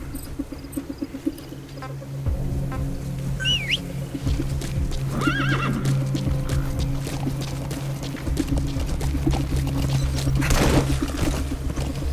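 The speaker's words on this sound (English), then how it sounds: "Use your horse." A horse whinnies and snorts amid steady clip-clopping hooves, with outdoor ambience and a faint insect-like hum underneath; no one speaks. From the video game Metal Gear Solid V.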